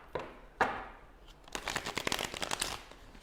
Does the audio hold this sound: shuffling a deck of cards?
yes